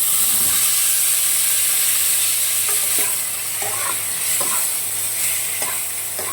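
Ridge gourd fries in oil in a pan with dried red chilli and bay leaf tempering. The sizzle is loud, hissing and constant, close by, with soft stirring scrapes breaking through now and then.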